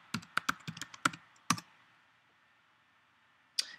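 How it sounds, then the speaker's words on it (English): Close computer keyboard typing: a quick burst of crisp key clicks, a pause, then one final keystroke in a quiet room. "you can go ahead and type in your username and password that's provided by Inspiro Designs"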